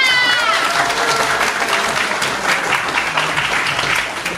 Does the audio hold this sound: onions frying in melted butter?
no